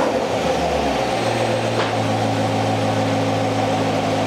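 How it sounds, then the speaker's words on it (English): Corvette Z51 with dry sump engine idling while warming up, a steady low droning hum with a faint higher mechanical tone, close and continuous with no talk. "you let the engine run until it gets up to 175"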